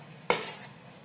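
Onions tipped into a hot frying pan for masala pori make a sudden loud sizzle that swells and fades over about half a second, then settles into a low hiss.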